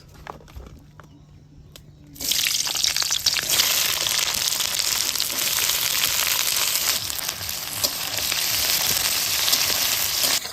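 Onions drop into hot mustard oil in a kadai and burst into a loud, steady sizzle after about two seconds of quieter background, continuing strongly to the end.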